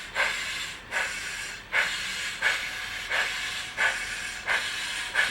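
A model steam locomotive on a model railway hisses with its cylinder drain valves open, sending out steady pulses of loud, breathy steam hiss at a regular chuffing rhythm, close by and without voices.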